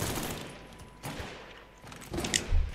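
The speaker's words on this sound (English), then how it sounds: "Okay, I've changed my plan to just shoot them." Gunfire in the video game Mafia III, a few scattered muffled shots and bursts in a noisy backdrop, fairly quiet with no talk.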